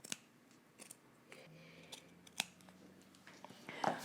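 Scissors snipping through a sticky sewing pattern piece in a series of soft, close, irregular cuts in a quiet room.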